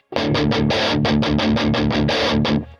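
A rapid run of chugging palm-muted notes on an electric guitar through a Bias Mini Triple Recto amp model, tight and punchy with a gritty, slightly sizzling edge, ending in a brief ringing stop.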